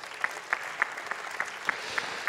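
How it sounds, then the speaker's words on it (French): An audience at a Cit'ergie label award ceremony gives a short burst of fairly distant, steady applause, with several sharper claps standing out above it. "On les applaudit bien fort."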